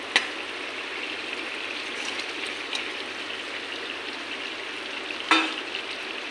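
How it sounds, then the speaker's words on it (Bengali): Fried rupchanda fish is stirred into a simmering potato and vegetable stem curry, giving a faint, even sizzle with a sharp utensil clink at the start and another near the end. "এখন ভাজা করা মাছগুলো ঢেলে দেব।"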